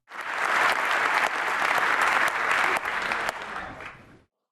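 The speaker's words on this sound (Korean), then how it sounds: "블로디미르 젤렌스키 우크라이나 대통령이 영국 하원 의장의 소개에 이어 기립박수를 받습니다." Sustained standing ovation in the UK House of Commons, dense applause from a packed chamber filling the whole stretch at strong level before cutting off abruptly.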